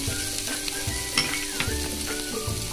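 Capsicum, tomato and onion sizzle steadily on a hot tawa for tawa burgers, a close, dense crackle with light stirring scrapes and occasional clicks.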